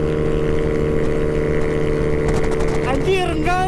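A Honda Beat 115 cc scooter with a racing exhaust roars past at speed, a loud steady engine drone that swells and whines in pitch near the end, with voices talking over it.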